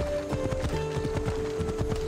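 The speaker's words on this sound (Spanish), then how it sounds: "¡Ya tengo un caballo! ¡Mira!" A horse gallops in the Assassin's Creed Odyssey video game, its hooves drumming in a fast, steady rhythm under sustained tonal game music and ambience.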